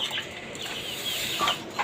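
Chickens on a rooftop chicken farm, including red-feathered chicks, give a brief close cluck over a steady airy background hiss, with no talking.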